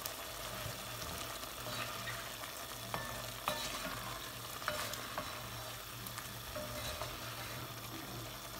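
Stew with beef and spices bubbles and sizzles steadily in a heavy cast iron pot, a constant low simmer with occasional small clinks and pops, no voices.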